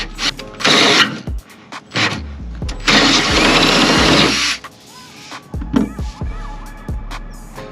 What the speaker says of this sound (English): now that I got this top hole drilled